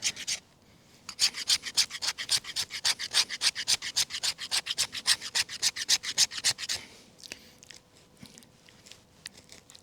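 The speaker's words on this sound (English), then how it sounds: "scrape a little bit of fat wood to see if we can't do that with the knife" A knife blade scrapes fatwood into shavings, making a fast, steady run of close, loud rasping strokes that stops, followed by a few softer scrapes. No one speaks.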